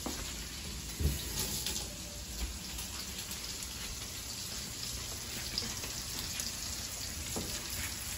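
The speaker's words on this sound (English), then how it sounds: "how I can take the butter, pour it on top of that side" Steak frying in a pan of hot butter, with a tablespoon basting melted butter over it, producing a steady, dense sizzle and crackle throughout, close up and with no voices.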